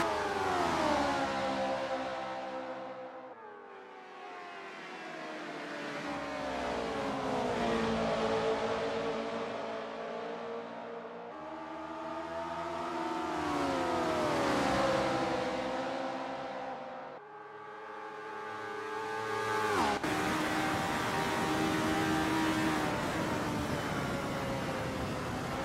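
Race cars from the RSS 1970 V8 class lap the Autosport Speedway oval in a sim racing game, engines rising and falling in long sweeping revs as several cars pass, loud and continuous with no talk.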